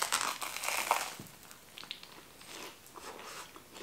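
Crisp oven-baked snack of mushrooms and cheese, a Polish dish, crunches under a few close bites, with sharp brittle cracks up front fading into softer chewing crackles.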